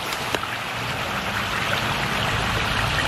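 A red tail catfish splashes into a pond, heard as a steady close wash of churning water with a brief sharp splash near the start.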